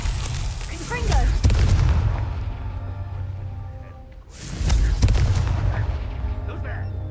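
Two loud fiery spell blasts in Hogwarts Legacy, the Confringo explosion spell, each a sharp booming burst with a long rumbling decay, the second arriving about three seconds after the first, with a voice casting under the first blast.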